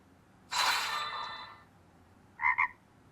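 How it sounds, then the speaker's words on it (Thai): The frog-croak notification tone on an Infinix Hot30 phone: a bright, buzzy croak lasting about a second, then after a pause two short chirping croaks, clear and alone in a quiet room. "อันนี้ไม่น่าใช่อันนี้กบกบร้อง"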